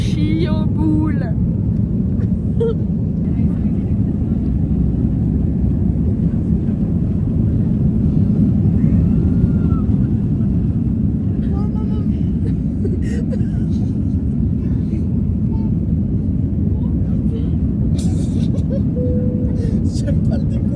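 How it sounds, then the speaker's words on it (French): An airplane taking off, a loud, steady low roar and rumble that holds for the whole stretch, with faint voices murmuring underneath. "J'aime pas le décollage."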